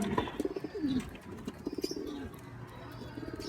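A racing pigeon just arrived from a training release coos softly and repeatedly nearby, with a few faint chirps and light background noise.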